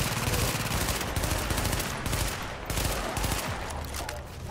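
Sustained automatic gunfire from The Division video game, loud and continuous with rapid overlapping shots throughout, no voices.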